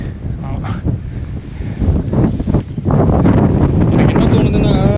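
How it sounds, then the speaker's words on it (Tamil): Strong wind on a hilltop during a motorbike trip in Ooty in the Nilgiris, roaring and buffeting the microphone in heavy, uneven gusts that grow louder and more constant toward the end. "இந்த இடத்துல பயங்கரமான காற்று சத்தம், சரியான இறைச்சல்"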